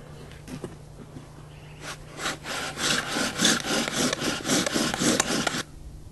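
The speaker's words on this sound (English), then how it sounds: "The spindle goes on the fireboard, like this. Handpiece fits on top," A wooden bow drill spindle rubs against a wooden fireboard, starting quietly, then settling into rapid, even back-and-forth rasping strokes, close and fairly loud, before stopping abruptly.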